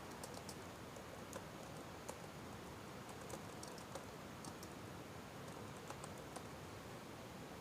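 Keys on a computer keyboard click faintly and irregularly during accounting data entry, with sparse taps scattered over a steady background hiss.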